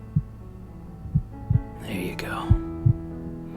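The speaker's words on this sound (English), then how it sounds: "Lay on my chest and let my heartbeat soothe you to sleep." Soft, low heartbeat thumps, five over a few seconds in a slightly uneven rhythm, under a gentle hum in an ASMR sleep aid, with a brief whispered phrase in the middle.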